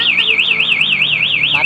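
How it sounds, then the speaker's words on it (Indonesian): Aftermarket anti-theft alarm on a 2020 Yamaha NMAX scooter wailing loudly up close, a rapid warbling siren tone cycling evenly several times per second. "Tapi ketika ada pemobolan di kontak, maka alarm tetap akan berbunyi keras seperti ini."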